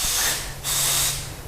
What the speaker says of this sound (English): Is blowing air from that outlet pipe, and is even spraying that WD-40.